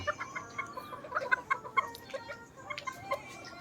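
Five-month-old cockerels clucking and chirping in short, irregular bursts, fairly faint and close, with no crowing.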